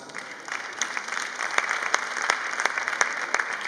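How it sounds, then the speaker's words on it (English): An audience at a Bank of Industry women's event in Nigeria gives a steady round of applause, with sharp individual claps standing out over a dense, fairly quiet wash of clapping. "Please, I would like us to appreciate them with a loud applause."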